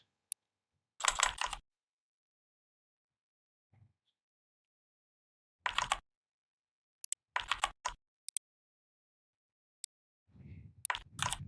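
Someone types on a computer keyboard in short, rapid bursts of clacking keys separated by silent pauses. The bursts are close and crisp, with a few isolated single keystrokes and a soft thud near the end.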